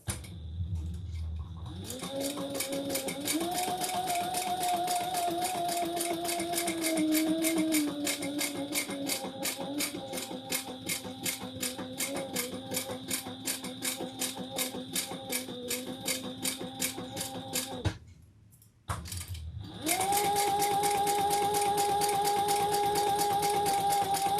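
Close and loud, a sewing machine stitches around the outside edge of a pattern piece, its motor humming steadily with a rapid rhythmic needle patter, briefly pausing before running again at a slightly higher pitch.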